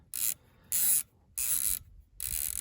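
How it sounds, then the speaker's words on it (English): Zero stop on a Leupold Mark 5HD 5-25x56 rifle scope, turned in four short bursts of fine mechanical clicking, close and fairly loud, with brief quiet gaps between. "put it back on, and it clicks right into place"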